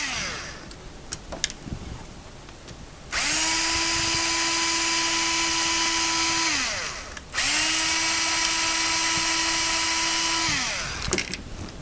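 A power drill whines at steady speed backing screws out of a waterproof Mini Educator dog collar device, two long sustained runs with a brief stop between, each winding down at the end, close and loud after scattered handling clicks.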